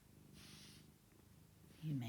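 A female cat purrs softly in the background of a quiet indoor room, a low steady rumble lasting a couple of seconds, with a louder low sound rising near the end.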